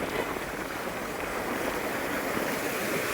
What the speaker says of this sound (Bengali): জায়গাটার ঢেউটা একবার দেখো